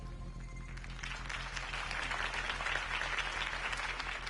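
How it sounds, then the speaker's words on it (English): A crowd claps and cheers after Harvey Dent's campaign speech in Batman: The Telltale Series, dense applause that swells and holds steady for a few seconds, moderately loud with a faint low hum beneath. "If only Mr. Wayne, my campaign's largest backer, could have heard that applause"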